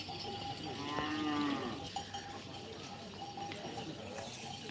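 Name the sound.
cattle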